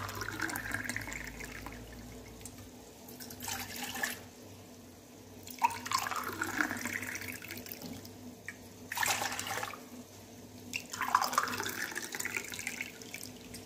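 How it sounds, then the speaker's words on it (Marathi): Water is poured out in several separate gushes with short pauses between them as three glasses are measured for lemon sherbet, close and moderately loud. "मी 3 ग्लास पाणी मोजून घेते"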